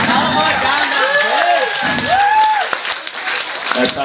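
Comedy club crowd applauding a stand-up comedian, loud, close clapping mixed with cheers and a few whoops, while the performer keeps talking over the noise.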